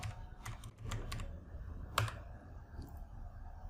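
Quiet, close computer keyboard typing, a short run of light key clicks followed by a few scattered taps, with no talking.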